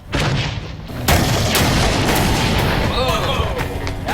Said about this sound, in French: Bon, testons la grenade moderne.